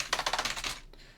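Quick keystrokes tap on a computer keyboard, a rapid run of about ten soft, close clicks that trails off into quiet.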